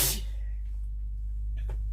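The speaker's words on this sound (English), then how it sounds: "Oh, I gotta sneeze." One sharp, close sneeze from a person at the very start, then quiet room hum.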